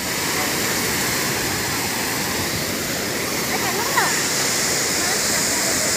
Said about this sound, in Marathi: इकडे धबधबा फुल धबधबा ना डॅम आहे.